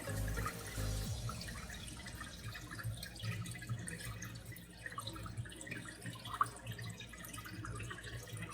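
Water trickles and drips steadily as a fish tank drains through its overflow, a faint continuous splashing with small bright drips, close and quiet with no speech.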